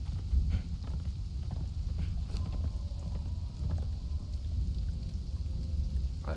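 Horse in the video game Conan Exiles, hooves clip-clopping over a rumbling, rain-like ambient wash, moderately quiet and mostly steady.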